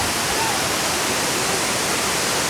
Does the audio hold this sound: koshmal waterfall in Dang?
yes